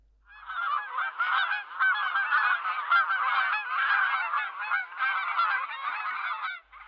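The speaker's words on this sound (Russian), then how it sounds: "А в небе кричали гуси, пронзительно и тревожно." A flock of geese honks overhead in a dense, continuous chorus of overlapping calls, steady and fairly loud for several seconds before fading out abruptly, with no voices.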